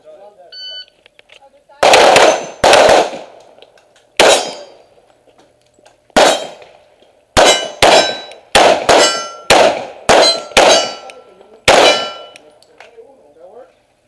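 A Glock 21 Gen 4 .45 pistol fires at steel plate targets outdoors, about a dozen loud cracks at uneven intervals, many ringing with a metallic clang as rounds strike the steel, while people talk quietly between shots.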